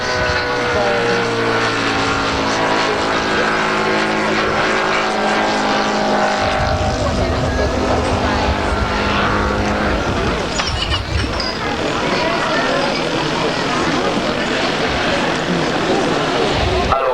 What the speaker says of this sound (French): Atterrissage de Josibo. Le Spitfire M39 était une formidable machine de guerre